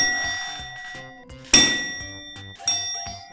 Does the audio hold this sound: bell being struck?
yes